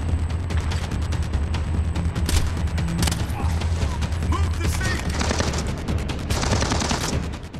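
Gunfire in Splinter Cell Blacklist, dense rapid bursts and repeated cracks running nonstop over a heavy low rumble, close and loud throughout.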